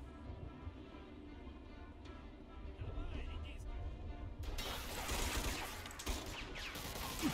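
Gunfire in Mafia 2: Definitive Edition, a fusillade rising into a denser, louder burst of shots partway through over a background rumble.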